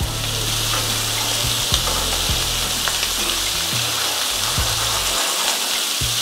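Shrimp sizzling steadily in a hot frying pan for a creamy pasta, a continuous loud crackling fry with occasional small pops and clinks, no voices.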